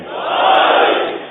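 A large crowd at a Muharram majlis shouts a religious slogan in unison in response, a single sustained roar of many voices swelling and fading over about a second.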